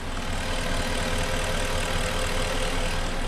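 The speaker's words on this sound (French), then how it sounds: "on sent que le moteur est vraiment très doux" Porsche Cayenne engine idling smoothly just after an oil change with Mecarun P18 additive, a steady, even hum with no people talking.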